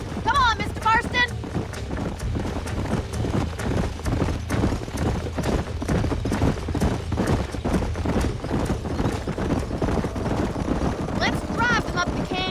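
Hooves of galloping horses in Red Dead Redemption 2 rattle in a fast, loud, uneven clatter throughout, with whinnies near the start and end and wind rushing underneath.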